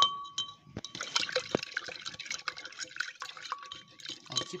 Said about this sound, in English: Pour my sugar into my warm water and mix.